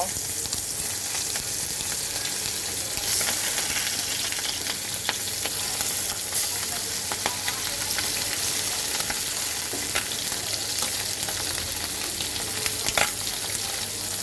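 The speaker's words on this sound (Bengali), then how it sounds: "এখন আমি মাছটাকে ভেজে নেব" Steady, loud sizzling and crackling of fish frying in hot oil in a wok, close up and continuous, with occasional pops and a light stir.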